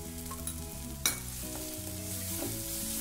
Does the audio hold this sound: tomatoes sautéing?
yes